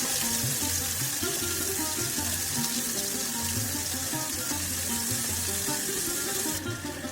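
Potatoes and carrots hiss in hot oil in a pan while a Bengali shrimp and palum greens chorchori is cooked, a dense continuous sizzle held at an even level with a low hum beneath and no talking.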